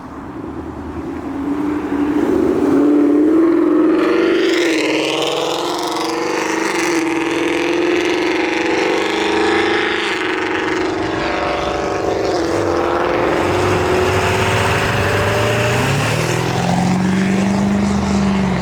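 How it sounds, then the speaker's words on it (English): A big diesel truck engine rumbles steadily throughout, a deep sustained drone with shifting revving tones, loud and close. "Big old diesel truck"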